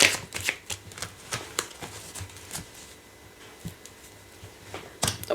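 A deck of tarot cards is handled and cut, producing a run of quick close card riffles and taps in irregular bursts, quieter in the middle and louder again at the end.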